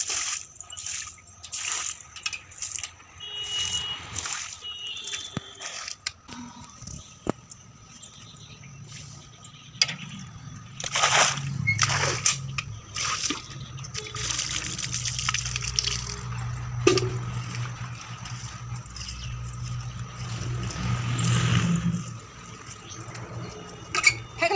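Puja utensils are washed by hand with lemon and soap, with intermittent water splashes, drips and sloshing, metal clinks and scrubbing, some louder bursts of running water, and no talk.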